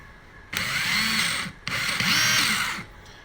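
A cordless drill fitted with a DeWalt trigger whirs loudly in two bursts of about a second each, separated by a short pause.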